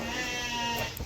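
A brown male goat, seen during Qurbani livestock selection in the USA, lets out a single close, drawn-out bleat lasting about a second.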